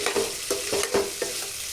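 A potato, pointed gourd and prawn curry is stirred in a frying pan, with a utensil scraping in quick, rhythmic strokes over a soft, steady sizzle, heard close.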